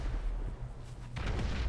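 Bomb explosions in GTA, a steady low boom and rumble that swells into a sharper burst near the end, loud and without speech.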